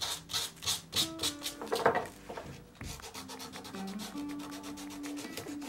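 Sandpaper rubbed over a hand-carved wooden rosette in quick back-and-forth strokes, making close, rhythmic rasping swishes with a short pause before the strokes resume.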